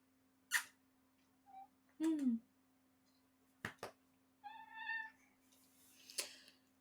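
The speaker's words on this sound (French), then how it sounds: "Il miaule" A house cat meows a few times indoors, short separate cries with quiet gaps and faint clicks between them.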